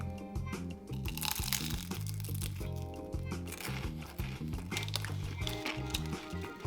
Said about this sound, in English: you must have heard that crunch. That was really crispy.